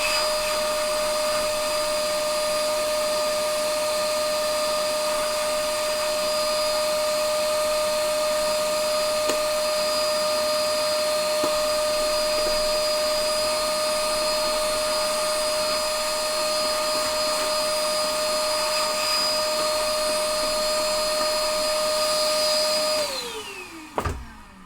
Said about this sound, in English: We will vacuum again.